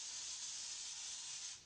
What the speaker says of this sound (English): sprayed both the foam and the console with Cushionrite